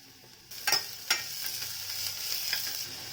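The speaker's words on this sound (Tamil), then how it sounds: "வெங்காயம் வதங்கிட்டு இருக்கட்டும்" Onions sautéing in oil inside a pressure cooker: a quiet start, then a sizzle that swells in with a few sharp spatula scrapes against the metal, continuing faintly.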